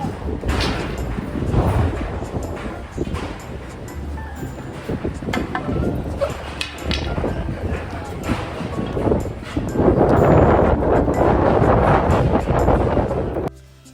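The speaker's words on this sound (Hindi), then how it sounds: "यहाँ की हवा की शोर सुन के आप समझ सकते हैं कि कितनी हवा चल रही है यहाँ पर" Strong wind buffets the microphone at Vaishno Devi Bhawan in gusty, roaring bursts that swell louder toward the end, while a person talks and a dog barks at times.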